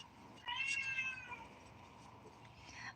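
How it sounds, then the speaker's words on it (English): A cat meows in the background: one clear, drawn-out meow near the start, then fainter tail-off sounds, with no talk. "that was meowing in the background"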